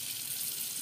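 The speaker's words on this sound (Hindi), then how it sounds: "पानी वानी चालू हो गया है।" Water runs steadily from a Jaguar kitchen sink mixer tap, a constant hissing splash close by with no other sounds over it.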